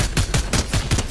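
Rapid automatic gunfire from the video game Fortnite, a loud steady burst of about seven evenly spaced shots fired up close with nothing else heard.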